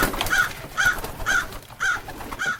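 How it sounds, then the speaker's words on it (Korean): Crows and magpies cawing together as they take flight, a story sound effect: five loud, evenly spaced caws repeat about every half second over a soft rustling bed, with no voices. "까마귀와 까치들이 한꺼번에 은하수로 날아올랐어"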